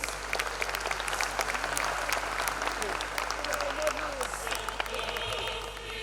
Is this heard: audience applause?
yes